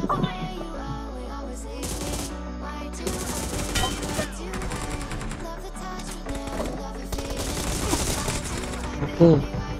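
Rapid automatic gunfire in PUBG Mobile during a deathmatch, repeated crisp bursts and single shots cracking in quick succession, with voices talking over the shooting.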